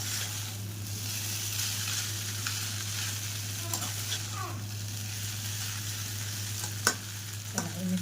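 Chicken hakka noodles being stir-fried in a pan, with a steady sizzle, a low constant hum underneath and a few sharp utensil scrapes and clinks near the end.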